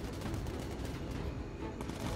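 Sustained automatic gunfire in the aerial combat video game Bomber Crew as a bomber's gunners shoot at an enemy plane, a dense continuous rattle of rapid shots with no talk over it.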